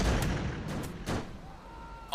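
Tank cannon firing a high-explosive shell in the VR game Tank Commander: several heavy booms rolling over continuous battlefield rumble, with a short sharp burst at the end.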